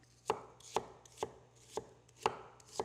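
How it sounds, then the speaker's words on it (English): A knife thinly slicing an onion on a cutting board: six crisp, evenly spaced chops at a steady rhythm, close and clear with nothing else around. "let's prepare an onion. We want a nice thinly slivered onion"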